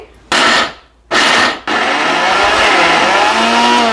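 A kitchen mixer grinder churns black-eyed pea batter for vadas, starting with two short loud pulses separated by pauses, then running continuously with a steady harsh motor whine, close and loud.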